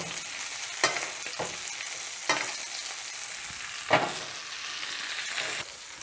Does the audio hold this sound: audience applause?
no